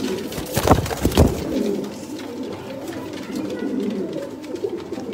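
Sialkoti pigeons coo softly at close range, with a couple of louder calls early on, then a steady low murmur of cooing and rustling from the flock.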